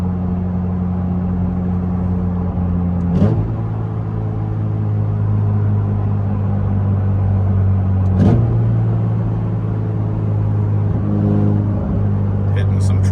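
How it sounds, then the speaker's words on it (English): Ferrari F8 fitted with Novitec and RYFT exhausts, heard from inside through a phone microphone: a steady low engine drone with turbos spooling up, broken by a few sharp upshift blips and a brief rise in revs. "you can hear it through the iPhone microphone, but turbos spool up great"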